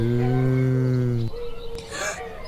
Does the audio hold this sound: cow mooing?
yes